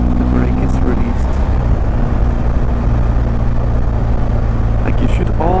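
Motorcycle engine held on open throttle while riding downhill with the brake released, a steady loud drone with low harmonic hum running throughout, close and continuous, with wind noise and no clear rise in pitch.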